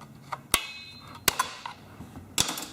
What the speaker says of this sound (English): let's pop this spring off with a screwdriver